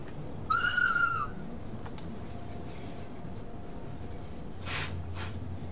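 A Swiss Allegra electric train in a train simulator game sounds a short, loud two-tone whistle blast, then a steady low rumble of the running train with a faint later hiss.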